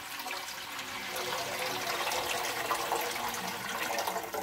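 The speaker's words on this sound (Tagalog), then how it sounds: "So lagyan ng tubig." A pitcher of water is poured into a cooking pot for bihon noodles, producing a steady, fairly quiet splashing gush that lasts several seconds with no talk.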